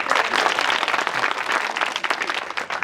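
Audience at a kavi sammelan poetry gathering breaks into loud, dense applause, a continuous wash of clapping from a crowd that fades slightly toward the end.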